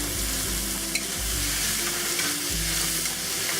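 Beef stir-frying with sweet chili peppers in a hot pan with dark soy sauce added, a loud steady sizzle with stirring scrapes throughout, close and continuous with no talk.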